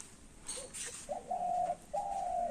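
Outdoors on a Bangladeshi farm, a dove gives two sustained cooing calls, the second after a short pause, fairly clear against a quiet rural background with a faint earlier bird chirp.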